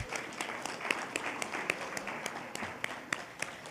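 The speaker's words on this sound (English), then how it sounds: "So let's give a hand clap to Mr. Ramirez." An audience claps and applauds in a steady, moderately loud patter with a few sharper claps standing out, no talking.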